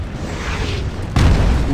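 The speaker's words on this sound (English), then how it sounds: "So there's some nasty artillery back there. Nasty French artillery." Distant rumbling of French artillery fire in the Napoleonic Waterloo battle game Scourge of War Waterloo, a steady low roar that swells suddenly into a heavier, louder boom partway through, with no talking.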